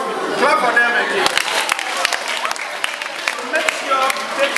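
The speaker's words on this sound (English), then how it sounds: "Clap for them again." Audience clapping fills a gathering at a peace campaign event, a steady busy patter with crowd chatter mixed in throughout.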